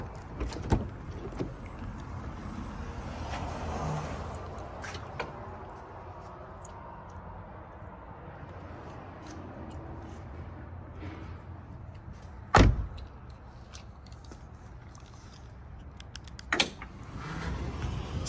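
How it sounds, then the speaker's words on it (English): Quiet mechanical whirring and creaking from a 2022 Chrysler Voyager with a VMI Northstar in-floor ramp conversion as the powered side door opens, the van kneels and the ramp deploys, punctuated by a couple of sharp clunks. "with a simple double click of your factory key fob, your door will open, the vehicle will begin to kneel, and your ramp will be deployed"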